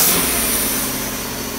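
A Mopar 318 V8 runs on GM throttle body injection with a loud, steady engine drone that eases off slightly, close up and with no talk.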